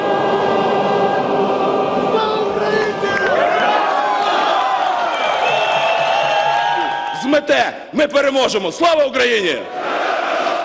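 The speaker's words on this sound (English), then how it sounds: "So the crowd waited in the street outside Parliament and sang the national anthem." Crowd gathered in the street outside the parliament in Kiev singing the national anthem, a sustained chorus of many voices, followed by shouted cries and cheering bursts near the end.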